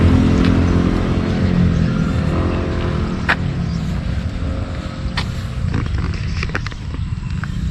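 A QJ Motors motorcycle with a liquid-cooled V4 engine runs at a test ride event, giving a continuous loud low rumble with a few sharp clicks and knocks, with no speech.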